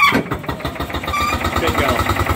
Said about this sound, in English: Ignition on. Crank back.